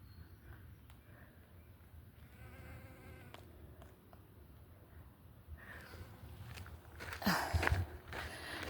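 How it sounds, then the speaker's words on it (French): A bee buzzes around a small yellow flower in a forest, a faint, wavering hum against quiet outdoor ambience, rising into a louder burst of close buzzing near the end. "Il y a une abeille sur la petite fleur jaune."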